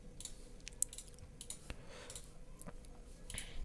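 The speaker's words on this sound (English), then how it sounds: "you just press Ctrl A and then your delete key on your keyboard" Quiet, scattered clicks of computer keyboard keys being pressed, light and close but faint against a soft room background, with no speech.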